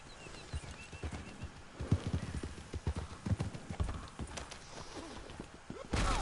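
Horse hooves in the video game Red Dead Redemption 2, a quick uneven clip-clop of a ridden horse on the ground, fairly close, with a brief burst of noise at the end.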